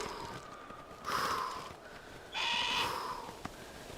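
Bird cries in the video game Cairn, two drawn-out hoarse, wheezing calls about a second apart, fairly close and alone over a quiet background.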